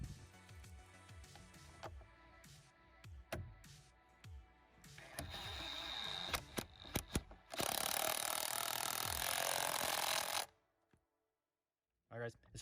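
Wrench ratcheting against a blue Loctite–secured nut on a Honda Civic Type R: quiet clicking and metallic taps build into a sustained loud grinding burst before stopping abruptly, with a speaking voice faintly present early on.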